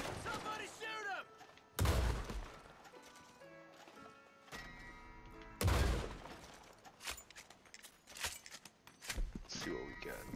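Gunfire inside Blackwater Saloon in Red Dead Online, loud sharp shots bursting in irregular volleys with pauses between, glass-like cracks and clattering mixed in, players talking over the action.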